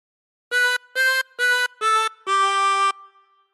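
A chromatic harmonica plays a short phrase of We Wish You a Merry Christmas: four clean, evenly spaced reedy notes followed by a longer held note, solo and close, with a brief fading tail.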